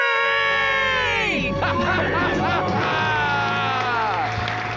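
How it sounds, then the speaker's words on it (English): A small group screams and cheers "we're debt free" in a loud, sustained shout with rising and falling voices, followed by whooping and excited yelling. "Let's hear a debt-free scream."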